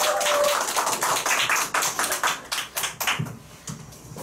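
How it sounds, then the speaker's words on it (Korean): An audience claps to welcome a speaker onto the stage at a training seminar, a dense burst of applause that thins into scattered, fading claps, heard close with no talking. "정소희 사장님 모실 때 큰 박수 부탁드리겠습니다"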